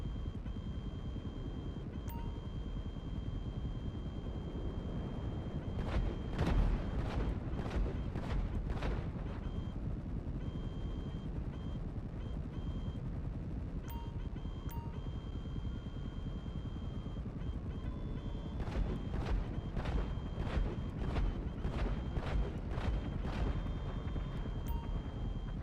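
Gunfire from an Avenger aircraft in GTA Online, two clustered bursts of sharp repeated shots over a steady engine drone, with small beeps and tones scattered throughout.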